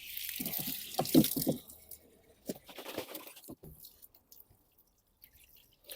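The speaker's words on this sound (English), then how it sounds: "now I'm going to take to the tap and clean this one" Tap water runs and splashes while a blocked BMW screen washer part is rinsed clean, with close, irregular spattering and dripping that thins into sparse drips and quiet pauses.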